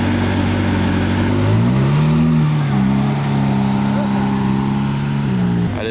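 A Lamborghini LP640's V12 engine drones close by with a strong harmonic tone that dips, climbs and settles again over several seconds, with a voice faintly present.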